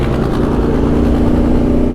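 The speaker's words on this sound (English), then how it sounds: "Tractor." A tractor engine chugs loudly and steadily nearby, a continuous low rumble with a droning hum for the whole stretch.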